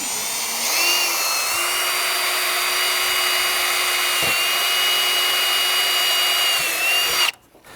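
A power drill drives screws into a window sill frame on an orangery build, a loud, steady whirring run of about seven seconds that cuts off abruptly near the end.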